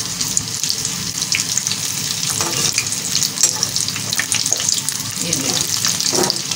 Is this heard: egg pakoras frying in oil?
yes